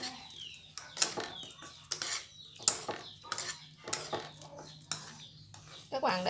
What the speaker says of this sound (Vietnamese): Bây giờ mình trộn nó lên ha.